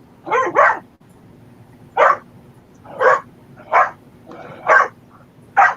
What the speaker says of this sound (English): My dog's having fun with my husband